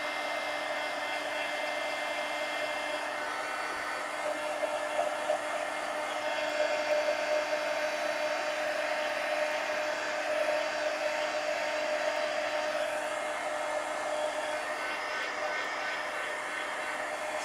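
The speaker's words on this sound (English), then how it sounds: "Now let me hit it with the heat gun." A heat gun blows hot air over a craft piece to dry it, a steady broadband whoosh with a faint whine holding nearly constant and close for the whole stretch.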